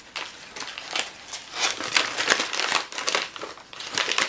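Parcel packaging being torn open and crinkled by hand, a dense run of crackling rustles and crumples close up, steady through the whole stretch with no talk.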